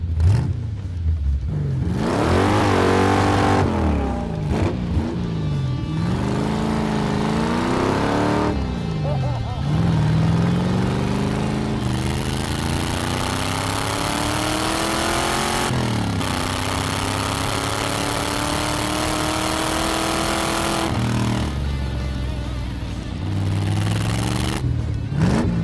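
A go-kart powered by a 1985 C4 Corvette engine revs and accelerates through repeated rising pulls and shifts, loud and close, with a brief lull between bursts.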